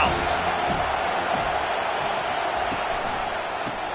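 A packed football stadium crowd roars in a constant loud wash of noise, with a commentator speaking over it throughout.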